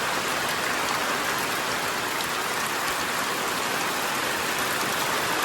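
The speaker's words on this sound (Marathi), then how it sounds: "बघा पाऊस बघा काल रात्रीपासून पाऊस पडतो" Steady monsoon rain falls continuously on farmland, a constant close hiss of drops hitting the ground with no voices.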